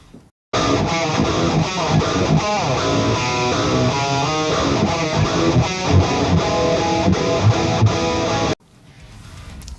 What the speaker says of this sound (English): Here's a clip of the amp on its own, just these settings that I've just shown you.